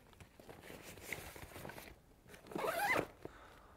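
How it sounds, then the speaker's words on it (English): The zipper of a PAX rescue bag is pulled open, with faint soft handling rustles before a quick, close ratcheting zip burst near the end, then quiet. "we can open the rescue bag, as discussed previously, with a zipper, what runs very smoothly and silent"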